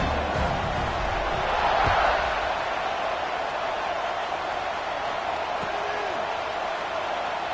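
A large football stadium crowd at a Utah vs BYU college game gives off a dense, steady roar that swells slightly early on and then holds at a constant level.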